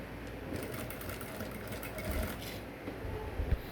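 Sewing machine stitching neck piping on an Ankara top, a quiet steady whirring run with faint rhythmic stitching ticks, alone and close.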